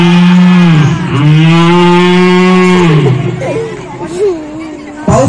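A mimicry artist at a women's group comedy show in Narsala, Nagpur imitates cows and buffaloes, giving two long, loud drawn-out moos close up, followed by shorter, wavering lowing calls.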